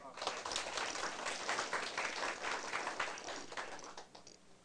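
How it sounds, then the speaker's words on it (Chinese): Audience applause at a closing ceremony of an advanced administrative seminar, a dense continuous clapping from a crowd, moderately near, gradually thinning toward the end. "大家家己鼓掌一下"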